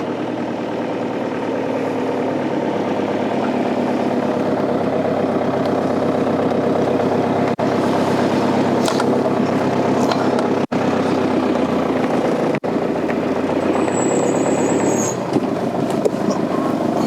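A van's engine drones steadily as it drives across grass, a loud continuous low rumble with a few brief clicks and knocks, no talk.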